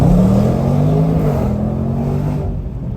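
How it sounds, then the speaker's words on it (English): A Range Rover SVR launches hard, its engine roaring loud and close as the revs climb and the pitch rises through a gear, then the sound fades slightly as it pulls away. "For a big car, it's got a good launch as well."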